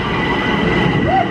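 A New York subway train in motion at Christmas time, a loud steady rumble and hum of the car with a brief higher squeal near the end.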